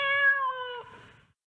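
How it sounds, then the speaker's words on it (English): A cat gives a single clear meow, a steady tonal cry that fades out after about a second, close and alone with nothing else around it. "Here, cat."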